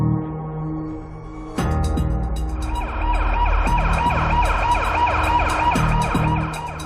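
An ambulance siren wails near an emergency room, its repeating rising and falling tones loud and close, with road noise beneath.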